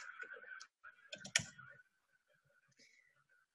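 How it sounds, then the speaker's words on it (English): Quick light clicks of computer keyboard typing come in short bursts, close and soft, separated by brief pauses and faint background hum. "I'll start typing some questions in the search box."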